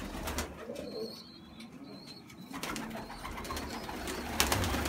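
Pigeons coo softly in a winter pigeon loft, low murmuring coos under a constant rustle of wings and scratching, with occasional clicks and knocks nearby.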